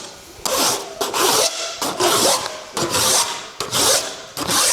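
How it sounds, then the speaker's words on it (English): Hand file rasping along the edge of a handmade aluminum sand car body panel, six steady strokes in a regular rhythm, close and fairly loud, each a bright scraping push followed by a brief pause. "I try to file each time with intent."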